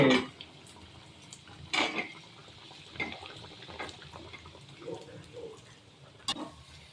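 Potato cutlets are turned over in a pan, giving a few scattered clinks and scrapes of a utensil against metal, some sharper than others, over a quiet kitchen background.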